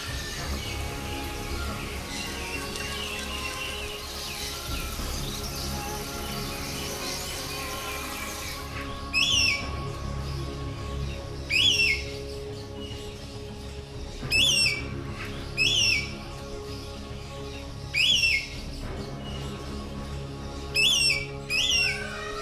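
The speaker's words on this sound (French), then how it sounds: "Dans ma cage, il y a plusieurs types d'oiseaux regroupés." Several kinds of birds calling inside an aviary at Casela Park, including scarlet ibis, gulls and crowned birds: sharp, repeated whistled chirps in short regular bursts over a steady background hum, fairly close, with no speech.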